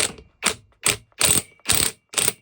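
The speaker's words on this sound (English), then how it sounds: "I've got an AliExpress impact gun. So let's see if it works." A cheap AliExpress impact gun hammers at the nut on a Vespa PX flywheel held in a holder tool, firing six loud, rattling bursts of roughly a quarter second each, separated by brief pauses, close and clear with no talk.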